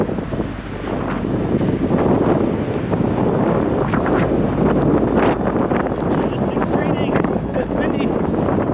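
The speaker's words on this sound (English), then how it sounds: "It's windy." Strong wind roars steadily and loudly across the microphone on an exposed mountain trail, a continuous rushing buffet with no letup.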